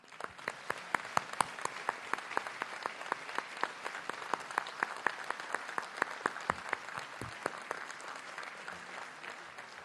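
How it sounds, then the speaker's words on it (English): Graduates and guests applaud continuously at an IIT Hyderabad convocation ceremony, with crisp individual claps over a steady, fairly faint wash of clapping that runs the whole length. "I would also request family of Rahul and the professor he mentioned to raise for another round of applause."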